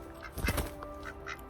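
A feisty backyard chicken in a garden gives a short burst of clucking, close and moderately loud, over a low steady background hum.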